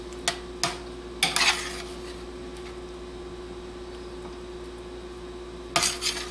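Roasted zucchini and potatoes are scooped from a pan: a handful of quick metal scrapes and clinks, spaced apart, over a steady low kitchen hum.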